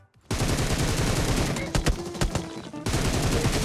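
Sustained gunfire in a battle royale shooter, loud rapid automatic bursts filling nearly the whole stretch with only brief dips, a voice speaking faintly underneath.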